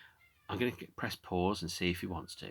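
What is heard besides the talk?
small black cat meowing at a door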